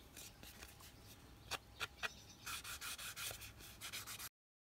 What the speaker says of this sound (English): So I'm just going to age these pieces and the photo